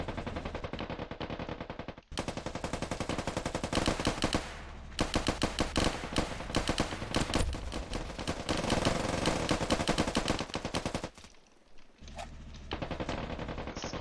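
Sustained automatic gunfire from a battle in the video game Ravenfield, a war scene set in New York, pours out in long dense bursts with two brief breaks, loud and close.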